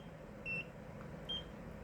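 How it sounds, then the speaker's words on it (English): Two brief high-pitched electronic beeps from a Nira skincare laser device used around the eye area, spaced about a second apart over a quiet background hum. "That little beep means I didn't do it right."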